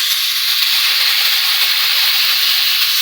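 Water poured into a hot pan of frying ginger and cumin paste brings a loud, steady hiss and sizzle of steam that holds at one level from start to finish.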